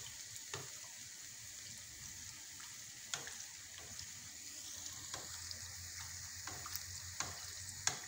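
Rose-shaped beignets fry in hot oil while oil is spooned over their tops, producing a continuous soft sizzle with light scattered crackles and occasional louder pops, and no voices.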